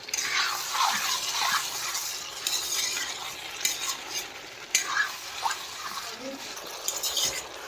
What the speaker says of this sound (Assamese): এই খাচী মাংস ফ্ৰাই কৰি আছোঁ পুৰা ড্ৰাই ফ্ৰাই কৰি আছোঁ খাচী মাংস